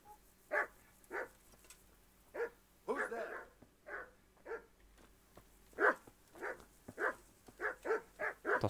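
Dogs barking in the medieval village of the video game Kingdom Come: Deliverance, a string of separate barks and yips at moderate distance, some close together, under a faint background hum.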